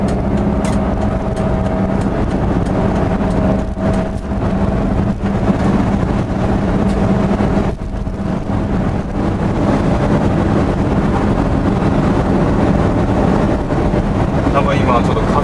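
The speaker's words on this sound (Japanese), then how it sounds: "多分今ちょっと風の音がすごいしてると思います。" Loud, steady wind buffets and roars through open vent windows of a 1979 Volkswagen Type 2 automatic over a constant engine drone, with someone talking beneath it.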